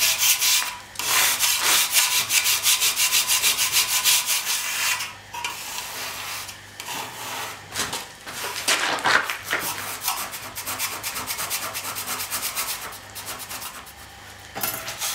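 Steady abrasive rubbing of a diamond plate across a hard concrete surface, close up, in repeated back-and-forth strokes with brief pauses.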